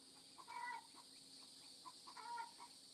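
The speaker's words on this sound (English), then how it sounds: "Sounds like a chicken laying an egg." A hen clucks in a series of short, faint calls with a brief pause between bursts, heard from a distance against a steady background hum.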